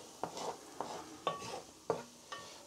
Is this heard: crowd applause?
no